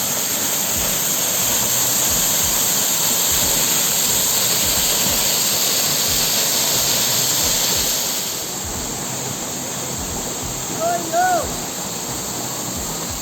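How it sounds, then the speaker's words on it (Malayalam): Loud, constant roar of a waterfall heard up close in surrounding forest, a dense rushing wash that dips slightly in the later seconds as a few faint chirps appear. "നമ്മൾ വെള്ളച്ചാട്ടത്തിൻ്റെ അടുത്ത് എത്തിയിട്ടുള്ളത്"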